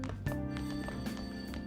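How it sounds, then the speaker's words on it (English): In the video game Persona 5 Royal, a telephone rings downstairs with a faint, repeating electronic trill and tonal ringing set against the game's background music. "there's a phone ringing downstairs."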